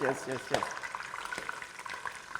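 Onions go into hot palm oil on a cooking show and sizzle with a soft, steady crackle under brief talk at the start.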